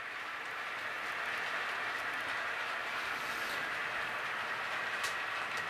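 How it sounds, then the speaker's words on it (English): A model railroad train pulling PP&LE coal hoppers and a caboose runs on a home layout, giving a steady, faint, continuous rolling hiss and rumble with a few light clicks, without talk. "You can see coming up behind the PP&LE coal hoppers is a caboose."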